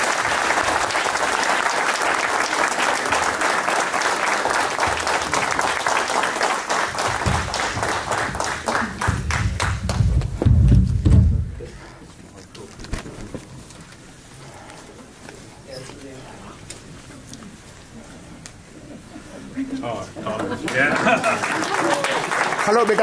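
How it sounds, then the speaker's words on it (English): Audience at a Diwali celebration at Naperville City Hall applauds loudly to welcome the newly elected mayor, clapping sustained for about ten seconds before dying down into murmuring crowd and voices, then picking up again briefly. "Give a big round of applause"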